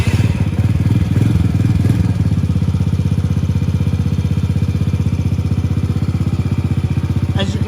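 A small kids' motorbike engine sputters to life on electric start and settles into a steady, rapid idle, loud and close, with a faint voice early on.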